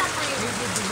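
Steady rain patters on a surface in a continuous, even hiss with no distinct drops, fairly loud and close, with a voice faintly present beneath it.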